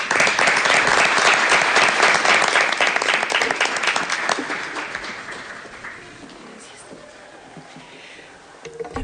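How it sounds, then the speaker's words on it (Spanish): An audience applauds at a public cultural event welcoming a woman teacher. The clapping starts loud and dense, then thins and fades over several seconds to scattered claps. "Démosle un fuerte aplauso, por favor"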